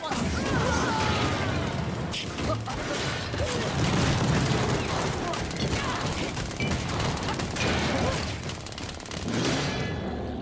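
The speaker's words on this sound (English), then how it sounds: "And those little grenades make a big difference." Grenades bursting during combat in the video game Warhammer Chaosbane, played as a dwarf engineer: a dense, loud barrage of explosive booms and crackling fire running continuously with game effects layered throughout.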